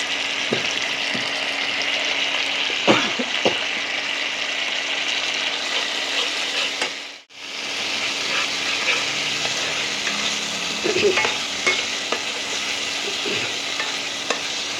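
Masala with yogurt and Kashmiri chili powder frying in oil, a loud steady sizzle with occasional stirring clicks and scrapes and one brief dropout midway.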